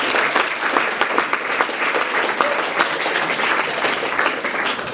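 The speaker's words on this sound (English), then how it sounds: "Round of applause for those people." An audience at an animal-rights activist workshop claps steadily, a dense, lively round of applause sustained evenly throughout with no voices breaking through.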